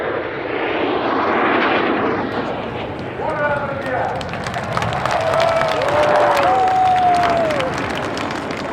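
Swifts aerobatic team jets arrive at a Russian Air Force anniversary air show, a broad engine roar swelling and passing overhead while a crowd applauds and a commentator speaks over it.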